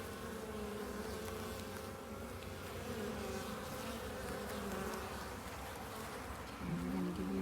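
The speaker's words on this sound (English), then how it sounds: "These are the spicy bees with the attitudes." Honeybees drone in a continuous, dense buzz over an open hive, close and steady throughout, with a slight pitch shift near the end; no voices.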